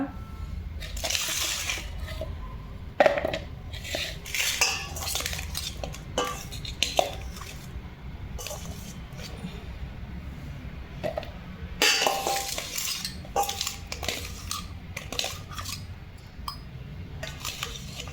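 Lemon pieces for pickle are scooped and measured with a glass, giving repeated clinks, knocks and rattling of pieces against glass and a vessel, close and moderately loud, continuing in irregular bursts with no speech.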